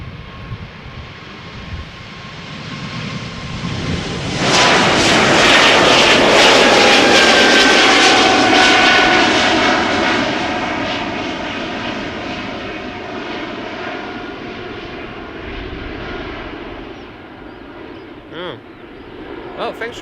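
An Air Baltic Bombardier C Series 300 jet on flight 618 to Riga, two years old, roars down the runway at Schiphol Airport on takeoff, swelling loud and close before fading into the distance.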